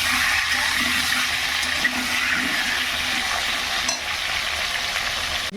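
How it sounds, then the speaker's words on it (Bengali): Potatoes frying in oil, a loud continuous close-up sizzle that stays steady throughout with occasional faint stirring. "এই যে আলুটা ভেজে নিচ্ছি আমি"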